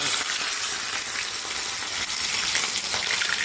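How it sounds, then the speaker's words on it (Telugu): Chicken pieces frying in hot oil give a loud, bright, continuous crackling sizzle that stays even from start to finish. "ఇప్పుడు మనము ఆయిల్లో వేయించుకుందాం."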